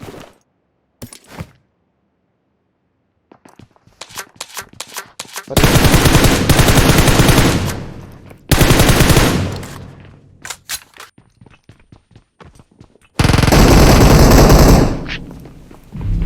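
Automatic gunfire sprays from PUBG Mobile come in loud, dense bursts of several seconds each, broken up by scattered single shots and quiet gaps.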